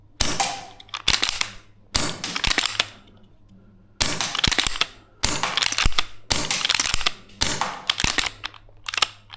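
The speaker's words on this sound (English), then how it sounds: "I think running some heavyweight BBs through this thing" VFC URGI gas blowback airsoft rifle fires heavyweight BBs outdoors, with sharp loud snapping shots and clacking bolt action in rapid bursts separated by brief pauses, close to the listener.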